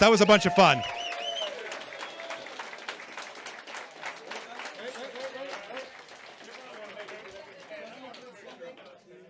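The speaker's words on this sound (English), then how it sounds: "Everybody give them a big round of applause." Applause for quiz show winners at a 3D printing event, a burst of clapping at the start that quickly thins into lively chatter and talking from the gathered crowd.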